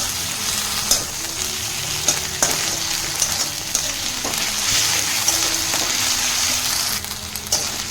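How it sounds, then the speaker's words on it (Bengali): Ginger garlic paste fries with softened onions for a homemade fish and potato curry, making a loud continuous sizzle with regular spatula strokes and clicks as it is stirred, close by with no speech. "পেঁয়াজটা আমার সফট হয়ে গেছে, এবার এতে দিয়ে দিচ্ছি 1 চামচ আদা রসুন বাটা"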